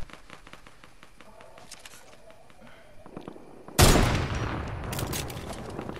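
Heavy gunfire in the battle-royale game Fortnite bursts in loudly after a quieter stretch of sparse shots and movement, a dense, sustained barrage that carries through to the end.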